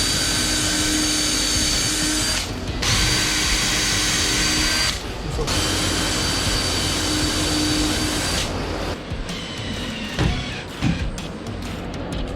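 Power screwdriver driving screws during a squaredrop camper build, three steady whirring bursts of a few seconds each separated by short pauses, followed by clattering handling noises.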